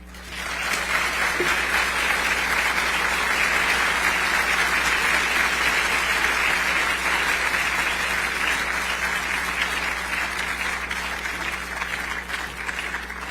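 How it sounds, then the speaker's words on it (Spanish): A forum audience gives strong, sustained applause after Salvador Alva's presentation: a dense, even wash of many hands clapping for over ten seconds, with a low electrical hum underneath. "agradecemos con este fuerte aplauso a Salvador Alba Gómez"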